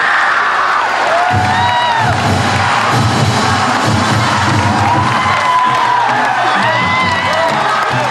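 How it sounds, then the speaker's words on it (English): Schoolchildren cheer and applaud Hawaii's 2005 Little League World Series champions from West Oahu, Ewa Beach. A loud, sustained crowd roar is full of high shrieks and whoops, with thumps and stomping throughout. "they went back to the thunderous applause of their classmates"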